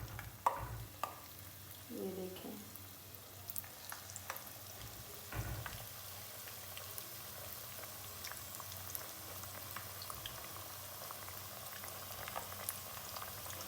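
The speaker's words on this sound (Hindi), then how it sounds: "अब हम फ्राई करते हैं पकौड़े।" Spinach pakoras frying in hot ghee, with faint bubbling and sizzling, a few soft clinks and stirring bumps early on.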